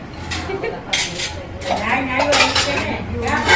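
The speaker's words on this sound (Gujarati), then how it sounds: "અમારા આંટી ઠાકોરજીના વાસણ કરે છે" Metal pots and utensils for a household shrine are washed in a kitchen at an old age home, giving continuous clinking and clattering of pans and cutlery close by, with faint voices in the background.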